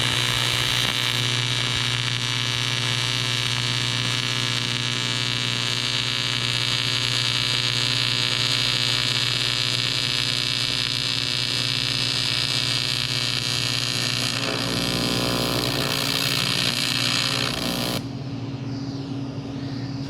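Steady electrical buzzing hum of a Lincoln Squarewave TIG welder running on aluminum, holding loud and even for about eighteen seconds before cutting off, with no talking.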